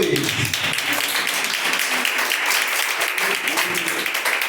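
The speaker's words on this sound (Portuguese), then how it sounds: "Palmas para Jesus." Church congregation applauding together in a loud, dense, steady wash of clapping that fills the space from start to finish, with voices mixed in beneath it.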